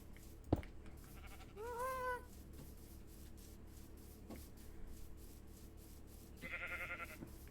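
A sheep in the video game Minecraft gives one short bleat amid quiet farm ambience, followed by a few faint clicks and a brief bright chime near the end.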